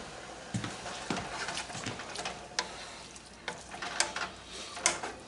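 Taco meat cooking on a stovetop burner with water added gives a steady low sizzle and bubbling, with scattered sharp clicks and scrapes of stirring throughout.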